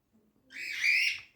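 A single bright bird call or whistle that rises and fades over about a second, alone against near silence.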